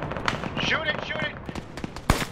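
Gunfire from the Arma video game, short scattered shots with one sharp louder blast near the end, mixed with overlapping shouted voices and game noise.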